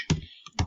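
Typing on a computer keyboard: two distinct key clicks about half a second apart, close and clear with no talking.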